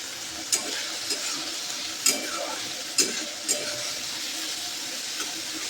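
Shrimp fry in a pan with a constant hissing sizzle, punctuated by a few sharp clicks and scrapes of a spatula, close and moderately loud.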